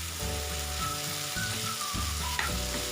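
Garlic and soya chunks fry in a pan with a steady, close, loud sizzle, broken by a few stirring scrapes, no voices present.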